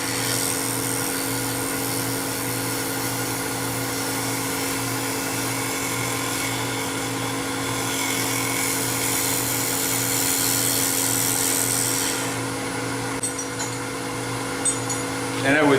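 A gouge cuts a wooden box on a lathe, giving a continuous loud whirring hum with a steady high-pitched cutting hiss that holds throughout, easing slightly near the end.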